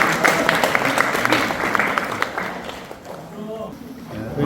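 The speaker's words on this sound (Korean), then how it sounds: "큰 박수 한번 쳐주세요" A lecture audience claps in a dense burst at a talk held by an agricultural company, the applause thinning out after a few seconds as the room settles.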